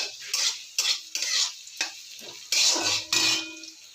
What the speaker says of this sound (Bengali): পেঁয়াজ রসুন দিয়ে ভাজা করছি। তেলে পেঁয়াজ রসুন দিয়ে দিয়েছি